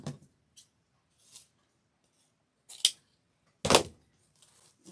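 Scissors cutting ribbon while making a bow tail for a Christmas nutcracker wreath: a few crisp, close snips, the last two louder and sharper, separated by near silence, with no talking.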